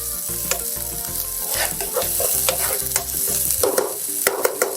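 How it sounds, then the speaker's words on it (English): Seasonings sauté in about three tablespoons of oil in a non-stick pan: a loud, steady sizzle and crackle runs throughout, with a few scraping stirs near the end. "I'm gonna saute it in about 3 tablespoons of oil"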